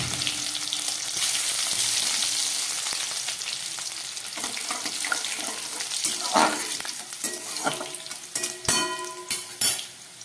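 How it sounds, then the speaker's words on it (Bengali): Bengali five-spice seeds and crushed garlic cloves frying in hot oil for an okra dish: loud steady sizzle that fades, then spatula scrapes and clinks against the pan growing busier toward the end, close up, no voices. "পাঁচ ফোড়নটা ভাজা হয়ে যাচ্ছে এবার দিয়ে দিচ্ছি কয়েক কোয়া রসুন থেতো করা"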